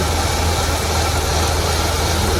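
A Holden VS Commodore Ute engine, unrun for ten years and with worn engine mounts, idles steadily with a loud, close, continuous low rumble and no voices.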